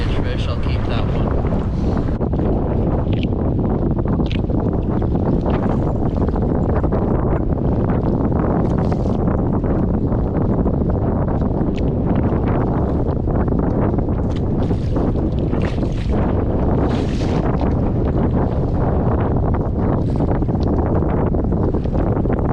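Heavy wind on Lake Winnibigoshish during solo walleye fishing from a boat, roaring and buffeting the microphone loudly and continuously, with gusts swelling and water slapping beneath it.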